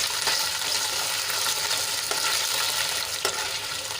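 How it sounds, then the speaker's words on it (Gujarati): Gunda (glue berries) frying in oil in a pan, a dense continuous sizzle close up with a few scraping strokes of stirring, no voices. "ફ્રાય કરી લઈશું આપણા ગુંદા થોડાક સોફ્ટ થાય ત્યાં સુધી એને સાંતળી લઈશું"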